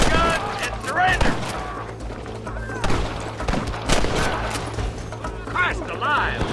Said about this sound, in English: Fire at will, boys!